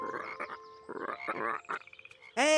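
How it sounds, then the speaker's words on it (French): Cartoon frogs croak several times in short bursts, followed by a quick rapid chatter and a final loud, rising croak. "effrayés par les coassements des grenouilles"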